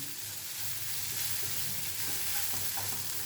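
Ingredients for rasam, garlic and coriander among them, frying in a pan with a steady, close sizzle and soft stirring scrapes throughout, with no one talking.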